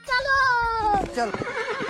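A horse gives a loud, clear whinny that rises and then falls away, followed by a short snort. It sits close and stands alone in a comic film scene.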